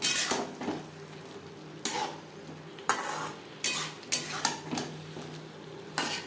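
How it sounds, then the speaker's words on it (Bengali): Potatoes being stirred with spices in a frying pan over medium-high heat: repeated scraping strokes of a utensil against the pan, about eight distinct sweeps over a steady sizzle, close and fairly loud, no talking. "মশলার সাথে আলু বেশ ভালো করে মিক্সড করে দেবো।"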